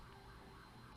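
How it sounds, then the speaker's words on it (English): An emergency siren sounds faintly from outside, a steady wailing tone that lasts the whole moment with nothing else over it. "Sorry about the siren."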